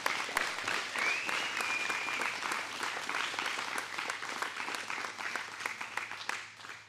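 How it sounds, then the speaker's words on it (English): Round of applause from a crowd at an archery 3D buckle shoot, many hands clapping in a steady outdoor patter with a faint whistle early on, tapering off at the end. "if we could give a round of applause to our pro staff and those that helped set this up"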